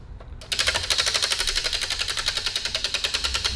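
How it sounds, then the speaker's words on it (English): Prize wheel spun hard, ticking off a rapid, even train of sharp clicks close to the microphone that begin abruptly and keep going at a steady pace. "So David's going to spin the wheel"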